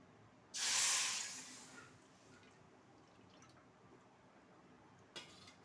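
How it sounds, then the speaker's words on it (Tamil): Coconut milk goes into a heavy-bottomed pan on a lit stove for coconut halwa, making a brief hissing splash that lasts about a second. A quiet, near-silent stretch follows, with one faint clink near the end. "அதில் வந்து நம்ம எடுத்து வச்சுருக்க தேங்காய் பாலை சேர்த்துக்கலாம்"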